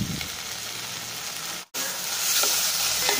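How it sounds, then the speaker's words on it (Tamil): Constant loud sizzle of urad dal, tomato and tamarind sautéing in a hot pan, with faint stirring scrapes and one brief dropout midway. "ஆல்ரெடி எல்லாமே நல்லா வதங்கியாச்சு."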